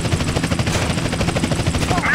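A helicopter in the game GTA San Andreas gives a loud, steady, dense rotor chop, layered with rapid gunfire-like bursts and busy game noise.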